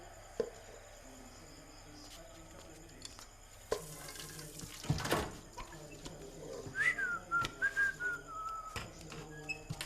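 Water runs from a tap in a steady broadband gush as hands are washed, swelling loudly midway, with a whistled tune and faint background clatter around it.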